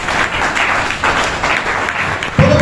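A large audience at a training camp gives sustained applause for a product as a dense, steady wash of clapping, fairly loud, with a sharp burst of added noise near the end.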